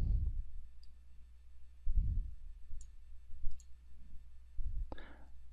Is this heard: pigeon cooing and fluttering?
no